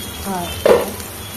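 Tomatoes cooking down in a pan for an okra curry, giving a soft sizzle with a brief louder burst of spattering midway, close and fairly quiet.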